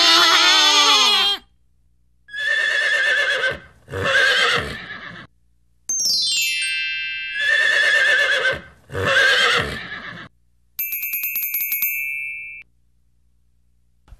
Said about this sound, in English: A horse whinnies.